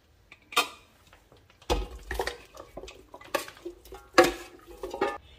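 Marinated pork being scraped and tipped from a bowl into a pressure cooker, with a few sharp clatters of metal utensils against cookware and softer scraping between them, close and fairly loud, with no talking.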